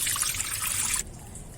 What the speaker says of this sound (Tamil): தண்ணி வடிஞ்சிருச்சு.